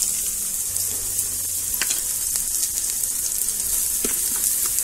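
Red chili powder and masala fry in hot oil for a spicy mutton rassa cooked over a wood-fired chulha. A close, continuous sizzle is broken by a few light clicks, and no one speaks.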